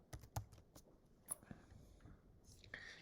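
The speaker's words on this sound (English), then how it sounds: "let's type it in, SiC" Quiet, sparse clicks of fingers typing on a computer keyboard, a few separate keystrokes spread out with soft pauses between them.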